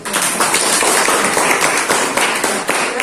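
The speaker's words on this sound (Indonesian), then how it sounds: "Sebelum teman presentasi kita beri aplaus dulu" A group of students claps together in a classroom before a discussion presentation, a dense, steady round of applause lasting throughout, close and loud with no voices over it.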